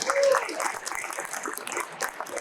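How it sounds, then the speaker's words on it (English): Audience applause, a dense steady patter of many hands clapping at moderate volume, continuous throughout with a slight fade. "Round of applause for him."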